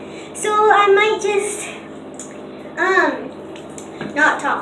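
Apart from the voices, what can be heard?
tap water running during a dog bath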